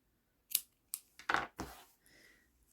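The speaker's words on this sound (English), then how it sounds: "I'm just going to trim my little ends" Scissors snip the loose yarn ends off a crocheted witch's broom, a few quick, close, quiet cuts in a row with a faint rustle of the yarn after.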